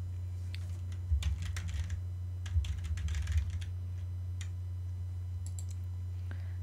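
Keys clatter on a computer keyboard in short bursts of quick taps while Korean text is entered, over a steady low electrical hum, close and fairly quiet.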